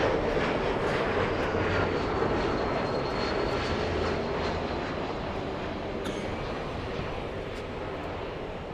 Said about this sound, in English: We have the little E175 flying in from San Francisco, a 55-minute flight.